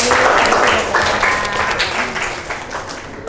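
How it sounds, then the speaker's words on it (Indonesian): Classroom applause for a student in an Indonesian teacher-training lesson, a burst of clapping that fades gradually, with voices and faint tones mixed in. "beri tepuk tangan dulu ke Hani"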